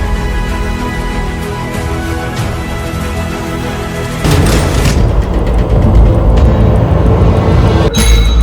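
A bomb explosion effect with a deep, loud rumbling boom that swells midway and rolls on with sustained roaring noise, ending in a sharp crack.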